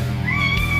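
A cat meows once in a kitchen, a single rising tonal call lasting under a second, fairly close, heard over low steady background hum.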